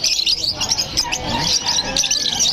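Pet budgerigars, including spangle and blue hen birds, chatter nearby in a dense, continuous stream of quick high chirps and warbles, loud and without speech.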